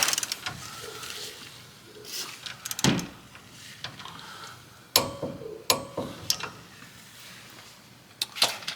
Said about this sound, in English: So I got one more to torque down.